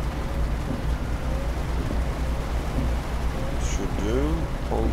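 Steady rain drums on a truck cab in the driving game Euro Truck Simulator 2, a continuous hiss with a low engine rumble beneath, with a voice talking intermittently over it.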